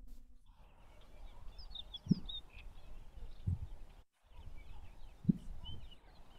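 A puffed-up displaying bird gives deep popping calls, three or four low, thudding pops spaced a second or more apart over faint background birdsong, with a brief dropout near the middle.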